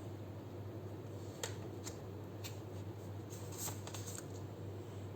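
Tarot cards being shuffled and laid down: soft, quiet riffling with a few crisp flicks and taps, close up over a faint steady hum.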